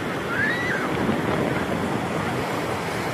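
Sea waves wash steadily onto the sand at Brahmapur's golden beach, a continuous loud roar of surf mixed with gusty wind buffeting the microphone, with no break through the whole stretch.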